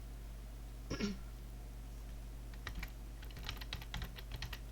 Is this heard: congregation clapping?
no